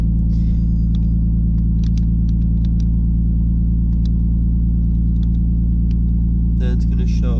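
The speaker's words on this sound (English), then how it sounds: "I just started up the car so that we can look at the features." A car engine, fitted with an Apexi AVCR boost controller, idles after a cold start with a loud, steady low drone, while a few faint clicks and beeps sound and a voice talks briefly near the end.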